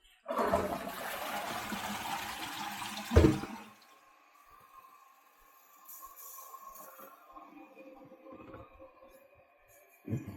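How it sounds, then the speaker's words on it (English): A toilet gives a half flush after a repair by a gas engineer: a short loud rush of water with a sharp gurgle near the end, then a quieter cistern refilling with a steady hiss and trickle. "Now we've got just a half flush first."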